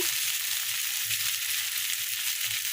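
Potatoes and onions fry in a pan as spices go in, a steady soft hiss of oil with faint low scraping taps, gentle and even.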